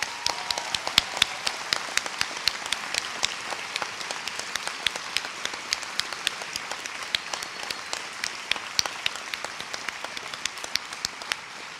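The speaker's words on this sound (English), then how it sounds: "Big applause for them." Sustained audience applause at a Columbia University Journalism School graduation ceremony, dense steady clapping from a large crowd throughout, no talk.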